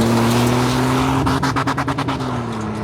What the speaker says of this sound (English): The first challenge of the day was some gravel drags